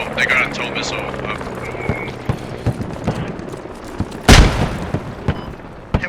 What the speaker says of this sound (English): They got a tow missile.